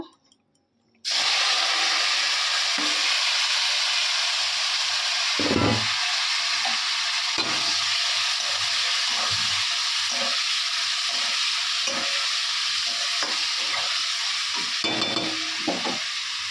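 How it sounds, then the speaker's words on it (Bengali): After a moment of near silence, potatoes start sizzling loudly in a pan and keep frying steadily, broken by occasional scraping and stirring knocks. "আলুগুলো একটু ভাজা হোক"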